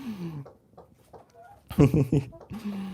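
Backyard chickens cluck and squawk in a short flurry while pecking corn, close and fairly loud, with a person speaking around the calls.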